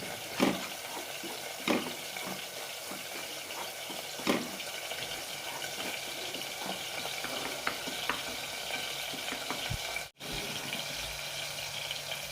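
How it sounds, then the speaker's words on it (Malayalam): Masala powders, including chili powder, roast and sizzle in a pan for a bottle gourd curry, a steady close hiss with occasional stirring scrapes and taps. "മസാലയൊക്കെ നന്നായി റോസ്റ്റ് ആയിട്ടുണ്ട്."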